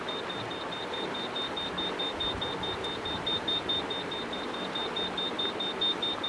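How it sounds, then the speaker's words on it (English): A small runabout's depth sounder on the Ohio River gives a regular series of short, high electronic beeps, evenly spaced over a soft steady background hum of the boat. "That beeping you hear is my depth sounder"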